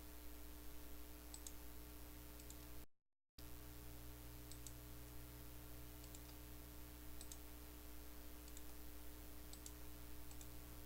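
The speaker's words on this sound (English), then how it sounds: "so I'll click right there" Faint, sparse computer mouse clicks while retouching a photo to remove blemishes, single sharp ticks scattered over a steady low hum.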